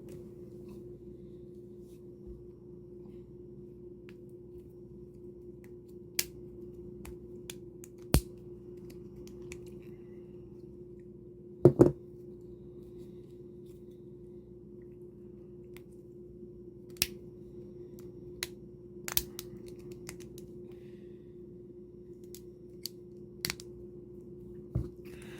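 Small plastic Metalcardbot toy rifle parts clicked and attached onto a card, sparse sharp snaps and clicks scattered over quiet room hum, with one louder cluster midway.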